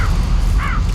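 A crow caws loudly and close in a film scene, two harsh calls about half a second apart over a low rumbling background.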